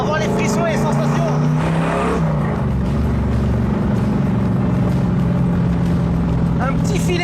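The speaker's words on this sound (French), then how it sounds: "Un petit filet de gaz sur l'accélérateur et on est déjà parti." A car pulls away under a light touch of throttle, its engine note loud and steady as it gathers speed, with a dense wash of road and engine noise throughout.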